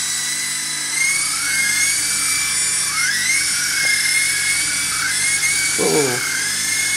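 Syma S032G model helicopter rotors run with a steady high-pitched whine and buzzing drone that wavers up and down in pitch as it flies, fairly close and continuous, with a brief voice-like sound near the end.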